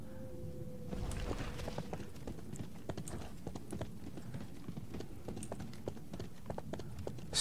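Horse hooves clop steadily in the RIFT video game, a continuous galloping patter of soft thuds that runs close and fairly loud throughout, with no talking over it.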